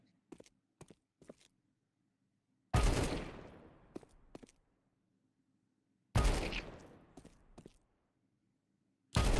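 Two loud bursts of rapid gunfire from Counter-Strike 2 aim training, each ringing out and trailing off, separated by quiet stretches with a few faint clicks.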